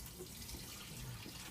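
Liquid poured into an open container makes a faint, steady trickling wash that runs unbroken from start to end.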